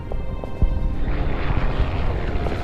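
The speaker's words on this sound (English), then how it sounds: "And the recon plane is back." A recon plane in the Winter War strategy game Order of Battle drones with a continuous rumbling aircraft engine, loud and steady throughout with faint scattered clicks, no talking.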